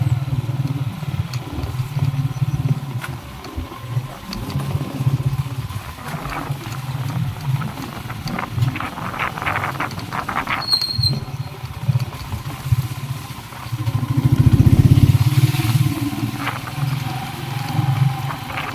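A motorcycle engine runs steadily with a low rumble on a rough road, swelling louder for a moment near the end, under the hiss of heavy rain.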